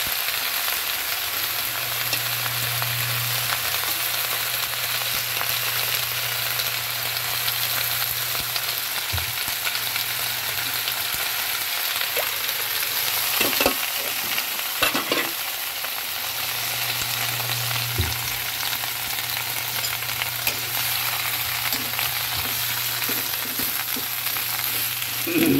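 Pechay, sweet potato leaves and okra sauté in a pan with a steady, moderate sizzle throughout. A few soft clinks of stirring come partway through, and no one speaks.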